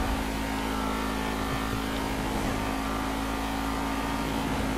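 A car engine drones at steady high revs while driving fast in GTA 5, a constant loud hum with no passing changes, alone without talk.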